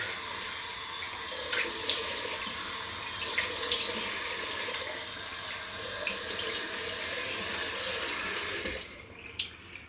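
Cold water runs steadily from a bathroom sink tap during a wet shave, a loud, continuous close hiss that stops abruptly near the end, followed by a few small splashes.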